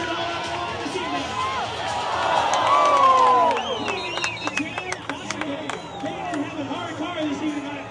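Crowd at a roller derby bout cheering and shouting, the noise swelling into a loud roar before breaking into scattered whoops and claps, with voices mixed throughout.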